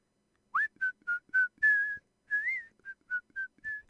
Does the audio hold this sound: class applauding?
no